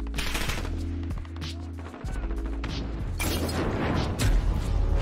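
Rapid automatic gunfire in the video game Call of Duty Modern Warfare, with sustained bursts of loud close shots, mechanical clatter and heavy booms layered over a steady low game rumble, and no speech.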